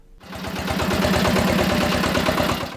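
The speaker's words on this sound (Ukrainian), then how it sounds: "Іван перевозив майно з Кам'янської Слободи цим трактором." A tractor used to haul belongings from a village in Ukraine runs steadily up close, its engine a loud, even, rhythmic chug from start to finish with no talk.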